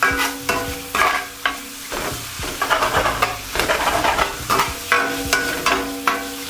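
Steak pieces for cheesesteak sizzle on a hot griddle while a spatula chops through them, giving a steady fry under a run of sharp, rhythmic scraping taps close by.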